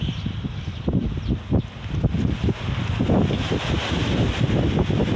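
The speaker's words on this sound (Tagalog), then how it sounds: "Mahangin po dito" Steady wind buffets the microphone in low rumbling gusts, with a constant airy roar throughout and no clear voices.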